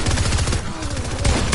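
Rapid automatic gun firing in a video game, a short loud burst of tightly spaced shots that eases briefly and then resumes.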